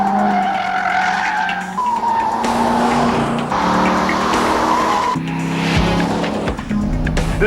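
A 2001 Chevrolet Corvette C5 Z06 with a six-speed manual races hard, its engine note climbing and dropping through gear changes while the tires squeal loudly through the corners, close and continuous with no talking.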